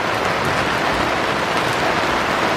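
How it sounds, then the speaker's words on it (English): Heavy rain pours onto a sailing boat anchored in the Amazon delta, a dense constant hiss and patter of drops close by, unbroken and loud. "it's bucketing down with rain"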